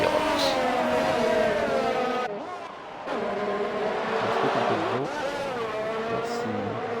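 Race cars in an F1 video game at the Hungary circuit, engines droning steadily at high revs with a brief dip and pitch shifts as cars overtake through a corner.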